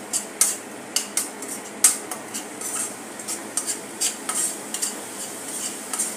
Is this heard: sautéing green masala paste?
yes